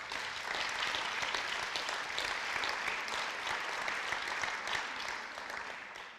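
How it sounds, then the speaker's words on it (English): An audience claps steadily after a poetry reading, a dense, sustained round of applause that holds at full strength for several seconds and then begins to taper at the end. "So let's give Mary another round of applause."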